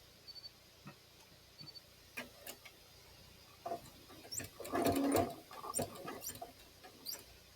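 A sewing machine stitching a few back stitches on quilt binding gives scattered clicks, then a short burst of rapid mechanical stitching and a few more ticks, fairly quiet with no speech.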